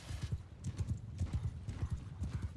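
Horse hooves clip-clop in rapid, repeated beats during a Spartacus battle game with Roman cavalry, close and steady throughout, with faint battle noise and brief low voices mixed under the hoofbeats.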